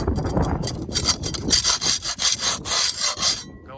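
Excess mortar scraped off a concrete block foundation, a close, gritty rasping in repeated short strokes, rougher at first, then settling into a steady back-and-forth rhythm.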